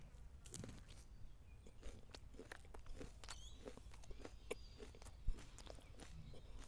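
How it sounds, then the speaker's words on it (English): Someone chewing a red hot chilli, with wet crunching and biting bursts repeating irregularly at close range, occasional sharper crunches standing out over a steady low background. "I'm going to attempt to eat and chew the rest"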